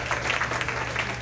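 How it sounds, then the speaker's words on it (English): Audience applause for a band's performers at The Marquee, a steady wash of clapping filling the whole moment at moderate loudness with no voices on top. "Another round of applause for these guys"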